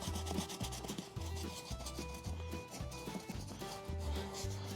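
Stiff brush scrubbing a leather saddle, with repeated rough rasping strokes in a steady back-and-forth rhythm, close and fairly loud, along with some low thumping handling noise and no talking.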